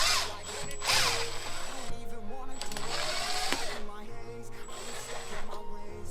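A power drill runs in repeated short bursts while backing screws out of a 2018 Jeep JL during a sunshade install, close and fairly loud, with brief pauses between runs and a person talking in between.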